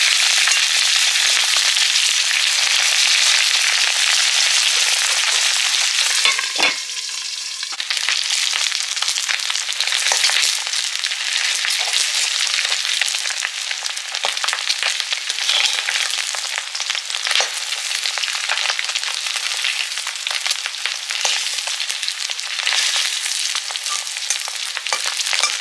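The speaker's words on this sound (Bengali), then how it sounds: "আর এই যে মাছের ডিমগুলো ভাজা হচ্ছে। মাছের ডিমগুলো তেলে দিলেই তো ফটফট করে," Fish roe sizzles and spits in hot oil, apparently in a covered pan, giving a steady loud hiss dotted with sharp crackling pops over its whole length, close up and with no voices.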